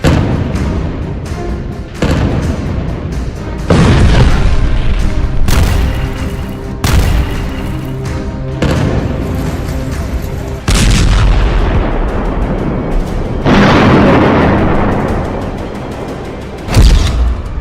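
Bombing and artillery fire in Gaza: a loud series of heavy booms and blasts, some sharp and some rumbling, overlapping and recurring every second or two, with scattered gunfire-like cracks.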